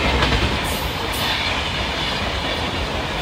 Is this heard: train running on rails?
yes